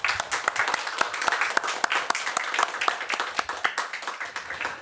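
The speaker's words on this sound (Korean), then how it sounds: "다시 한번 영광의 박수" Brief burst of enthusiastic clapping from a church congregation, dense and steady for a few seconds in a reverberant room.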